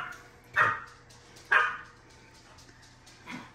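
A dog barks in a kitchen where cinnamon rolls are being made, with two sharp barks close together near the start and a softer third bark at the end, over a low steady background hum.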